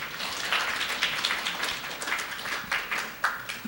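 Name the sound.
audience applause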